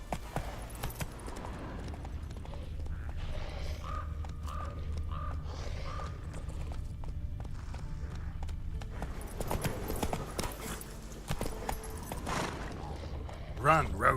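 A horse gallops in The Witcher 3, its hooves clip-clopping steadily in a continuous rhythm under layered in-game ambience and effects.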